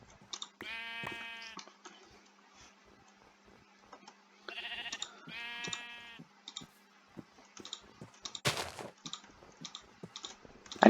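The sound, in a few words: sheep bleating in the video game NationsGlory (Minecraft)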